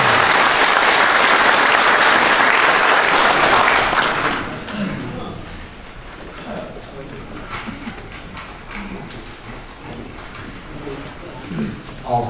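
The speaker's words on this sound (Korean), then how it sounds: "큰 박수 한번 다시 부탁드리겠습니다." Loud audience applause greets a retired army general at a lecture event, full clapping for about four seconds, then dying down to scattered claps and a murmur of voices and room noise.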